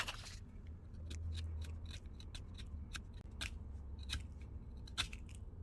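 Pencil being whittled to a point with an X-acto knife, a run of short, crisp scraping cuts in an irregular rhythm, close and fairly quiet with no talking.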